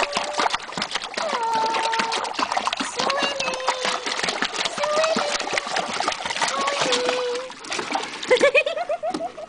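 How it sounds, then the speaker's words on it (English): A dog swimming and splashing in water, with dense, continuous close splashing and rippling, a few bird-like chirps over it and a sharper flurry of splashes near the end. "This is Elmo swimming."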